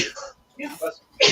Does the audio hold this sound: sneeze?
yes